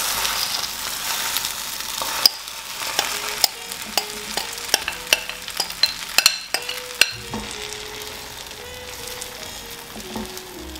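Eggs with spices are stirred in a frying pan, a steady sizzle broken by sharp irregular clinks and scrapes of a utensil against the pan, close and clear with no talking.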